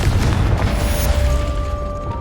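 A fire-based explosion spell cast in the video game Hogwarts Legacy, set in a greenhouse, goes off as a loud, deep booming blast with a rumbling low end that carries through the whole moment, then a thin ringing tone lingers as it fades.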